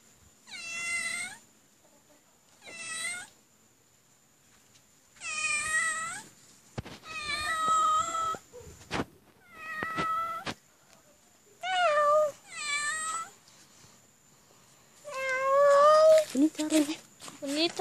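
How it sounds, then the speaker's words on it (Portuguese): A cat on a farm meows repeatedly, about eight clear, fairly close calls in irregular bursts, some drawn out and plaintive, with a faint steady tone running underneath. "É uma gatinha"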